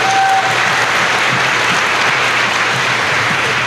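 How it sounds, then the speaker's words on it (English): A pageant audience at the Ms. Tohono O'odham Nation event gives a loud, dense, continuous round of clapping that fills the room evenly, with faint voices under it. "one more round of applause for everybody"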